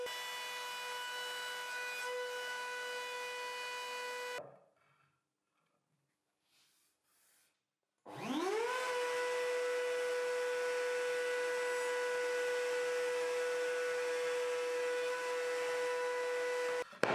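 A tilted router in a DIY tilting router lift cuts wood with a loud, steady high-pitched whine and strong harmonic tones. It cuts out into silence for a few seconds, then spins back up with a rising pitch and holds steady again.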